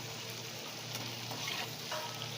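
Constant, dense sizzle from food sautéing in a pan with asafoetida, an even frying hiss holding steady throughout with no talk.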